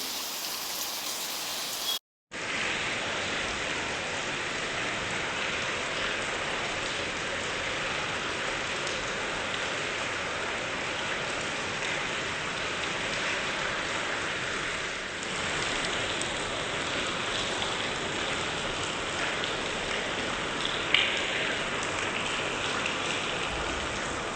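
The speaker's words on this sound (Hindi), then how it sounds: "बहुत तेज़ बारिश हो रही है।" Heavy rain pours in a dense, steady hiss after a brief cut at the start, unbroken and loud, with no voices over it.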